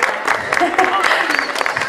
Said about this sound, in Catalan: No sense demanar un aplaudiment per a Carles Luprian a la guitarra.